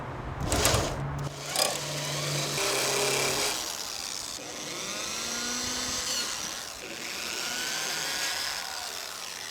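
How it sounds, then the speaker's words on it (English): A foot-long drill runs continuously and grinds through material at close range while mounting a DeLorean gas flap, its pitch wavering as it bites, with a few knocks near the start. "This is why you need that foot-long drill."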